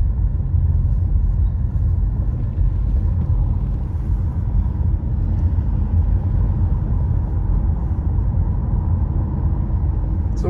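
A car drives slowly through the Boulder Bay neighborhood of Big Bear in a snowstorm as rain turns to snow, giving a steady, close low rumble with road and tire noise and no voices.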